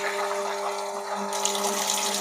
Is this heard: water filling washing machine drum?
yes